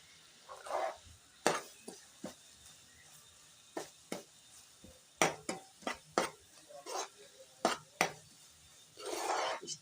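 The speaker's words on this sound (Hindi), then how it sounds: "अब हम इसमें अपने तिल और चारों मगज अच्छी तरह से मिक्स कर लेंगे।" Sesame and melon seeds stirred into thick one-thread sugar syrup in a pan: irregular scraping and clinking strokes of a spoon against the pan, some sharper taps and a few longer rasping scrapes, close and fairly quiet.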